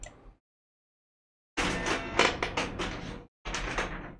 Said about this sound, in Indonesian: kalian bisa lihat printernya berhasil mencetak ya